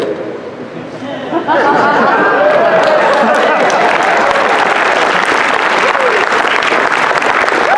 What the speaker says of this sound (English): the applause is usually more thunderous when people have consumed the contents of the bottle